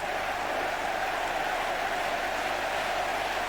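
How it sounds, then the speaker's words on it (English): Tipperary hurling fans roar steadily in a stadium crowd during an All-Ireland senior hurling qualifier against Cork in 2007, a dense continuous wash of cheering with no breaks and no talk. "Listen to the Tipperary fans."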